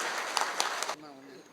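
Audience at a Vettuva Gounder community organisations' consultation meeting in Arachalur claps in support of resolutions, a dense burst of applause lasting under a second before it abruptly stops and a voice begins speaking.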